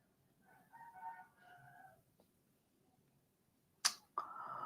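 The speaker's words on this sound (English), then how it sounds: "You could say they got some roosters in their front yard." Rooster crowing next door in a neighbor's front yard, a fairly faint single crow of layered tones at a distance, followed by a sharp knock and a louder burst of noise.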